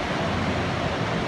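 A flooded river in the northwest Arkansas Ozarks near Yellville, swollen to about 14 feet, rushing in a dense, steady roar of churning water, loud and continuous with no voices.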